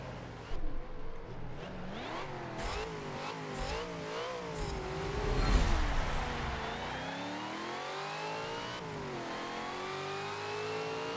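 A Hemi-powered car races around Circuit of the Americas in Forza Motorsport 7, its engine revving up and down in steady waves through gear changes, loud and close, with other cars nearby.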